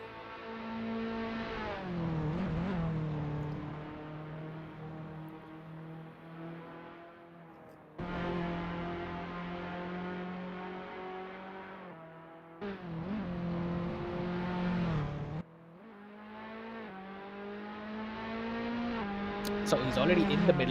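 A race car in iRacing laps the Spa circuit, its engine whining high and steady through long pulls, dropping briefly at gear changes and braking zones, close and continuous under a commentator's voice.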